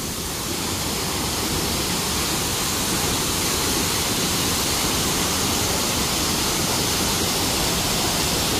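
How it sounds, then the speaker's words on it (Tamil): Large waterfall in Sri Lanka, a powerful continuous roar of falling water close by, broad and steady without pause from start to finish. "இப்போ இந்த நீர்வீழ்ச்சியை பார்க்குறதுக்கு தான் நாங்கள் இவ்வளோ தூரம் வந்த நாங்கள்."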